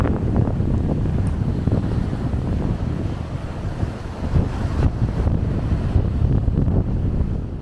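Steady gusts of strong wind at Saltwick Bay batter the mic, a dense low rushing noise that swells and eases slightly throughout, with no talking.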